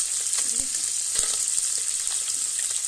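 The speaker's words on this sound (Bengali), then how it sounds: "এখানে চারা কালিশ মাছ আমি ভেজে নিচ্ছি।" Small kalibaush fish frying in oil makes a constant bright sizzle, with a few soft clicks and scrapes now and then, no voices.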